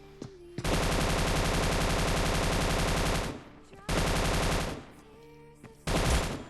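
Machine gun fire in the Scarfall 2.0 video game, three sustained bursts: a long stream of nearly three seconds, a shorter one of about a second, then a brief final burst, loud and rapid.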